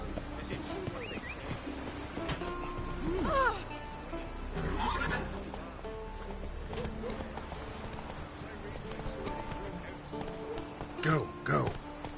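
Horse neighs and clip-clop hooves in a video game, set over a busy game soundscape, with a couple of whinnies standing out midway and near the end while a voice talks throughout.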